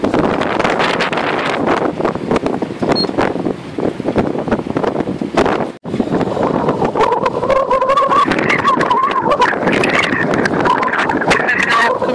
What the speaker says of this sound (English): it's blowing a gale